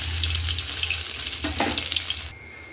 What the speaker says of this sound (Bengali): আলুগুলো ভালো করে ভেজে এবার আমি তুলে রাখবো।